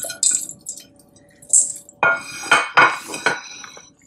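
Chickpeas, okra and potatoes go into a bowl for dahi baray, heard as a handful of close, sharp clinks and soft wet plops from a spoon against the dish, spaced irregularly over a quiet room.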